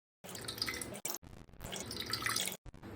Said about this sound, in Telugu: పులుసు అంతా తీసిన ఇది ఒక బాండీలో తీస్తాము.